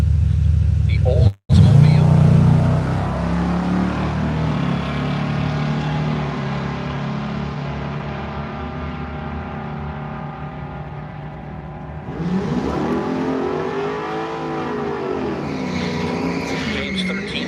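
Oldsmobile 442 drag car at Woodburn Dragstrip, engine droning steadily at a distance, then a sharp revving burst with rising and falling pitch near the end, under a commentator's voice.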